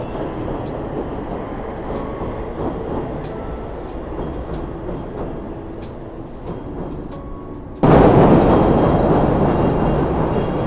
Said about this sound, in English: I love these the elevated train tracks